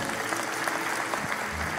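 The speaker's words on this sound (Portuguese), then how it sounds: "Aplaude, aplaude, glorifica o Senhor." A church congregation claps steadily during a sermon, a dense and even wash of applause lasting under two seconds, with faint voices and tones mixed underneath.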